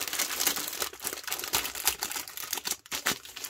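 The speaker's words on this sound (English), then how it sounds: "whilst the packet is crimpling in the background and making crinkly noises" A plastic food packet crinkles close by with dense, irregular crackling bursts and brief pauses, continuous for a few seconds with no talking.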